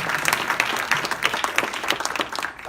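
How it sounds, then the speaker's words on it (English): Audience applause for a panel at a community health and clinic event, a steady burst of many hands clapping with some crowd noise, close and fairly loud throughout. "Let's applaud them now."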